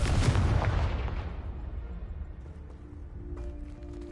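A Confringo blasting curse in a wizard video game blows apart a pile of debris blocking a stairwell: one loud boom at the start, then a rumbling decay that fades over about two seconds into quiet with faint tones.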